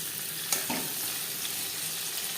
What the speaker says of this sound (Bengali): পনির হালকা করে ভেজে নেব উল্টে পাল্টে